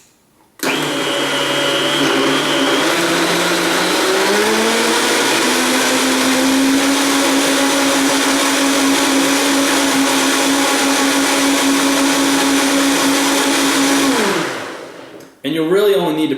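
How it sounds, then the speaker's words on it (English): A Vitamix blender runs loud and steady for about fourteen seconds, whirring through frozen bananas for a protein smoothie, its motor pitch climbing as it speeds up before cutting off. "you can hear when the Vitamix is cutting those up."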